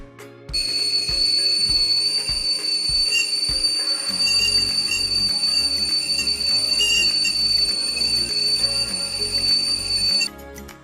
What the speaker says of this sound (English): A pleasing whistling sound it is, not too loud or not too soft.